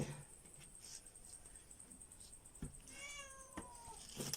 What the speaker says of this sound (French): Et un chat qui arrive.